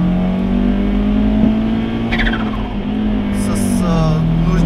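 A Citroen C5 engine with a modified exhaust idles with a steady low drone, a faint rev rising briefly partway through, close and continuous.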